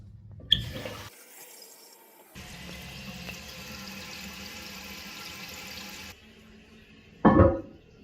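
A toilet tank refills with water after a new flapper is installed, a steady rushing hiss of inflow lasting several seconds, with a short splash at the start and a louder gurgling burst near the end.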